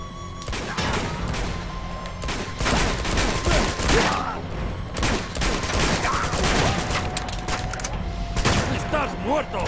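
Sustained gunfire in Uncharted 2 during an urban battle: rapid volleys of shots and bursts overlap in dense, loud clusters, with a few heavier booms, over about ten seconds.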